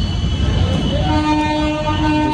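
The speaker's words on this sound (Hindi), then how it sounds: "ट्रेन आ गई" A train pulls into Jaipur railway station with a loud, continuous rumble of wheels and carriages. Sustained horn tones rise and hold over it.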